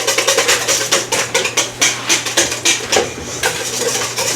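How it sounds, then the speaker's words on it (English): Ingredients for a broccoli and ham mac and cheese casserole being whisked in a bowl, a steady rapid clatter of the whisk against the sides, close and loud, continuing without a break. "he's going to whisk this up"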